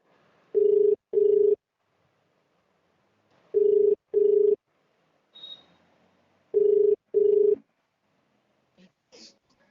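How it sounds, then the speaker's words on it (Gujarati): A telephone call rings out on the line as three evenly spaced pairs of steady ringback tones, with short silences and faint noises between them. "આપણે ભાવના બેન ને ફોન કરીએ"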